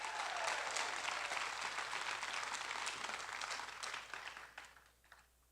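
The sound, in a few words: audience applause for Texas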